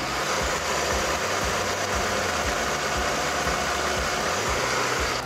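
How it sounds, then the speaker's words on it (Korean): A Mercedes-Benz E300 E-Class engine idling with the hood open, recorded close to the engine bay: a steady, even mechanical hum with regular soft low pulses and no talking. "영상으로 엔진 소음 한번 담아보도록 하겠습니다"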